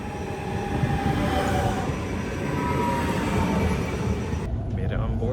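A train pulls into a station in Italy, its loud rumbling wheels and rail noise rolling steadily close by with faint screeching tones, before the sound abruptly thins near the end.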